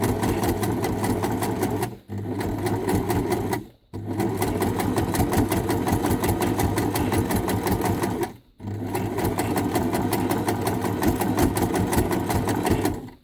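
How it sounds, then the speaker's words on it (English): A sewing machine stitching scrap fabric rope into a coiled flower, running in long steady bursts of rapid mechanical whirring with a few short pauses between runs. "And then just sew it as big as you want."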